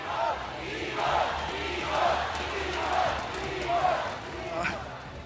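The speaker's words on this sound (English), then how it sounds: "You hear the crowd? They're cheering for you." A large esports crowd roars and cheers steadily throughout at a Mobile Legends M5 knockout match, while a voice calls out over the noise.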